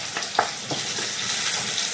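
Potatoes drop into hot oil with a spice tempering and fry with a loud, continuous sizzle, with a few stirring scrapes near the start.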